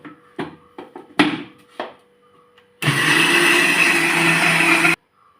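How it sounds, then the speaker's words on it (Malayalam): A mixer grinder whirs loudly for about two seconds as it blends cooked ash gourd into a paste, following a few sharp knocks and handling clatters, then stops abruptly. "ഇതിപ്പോൾ മിക്സിക്കകത്ത് ഒന്ന് കറക്കിയ ഒന്ന് കറക്കിയാൽ മതി"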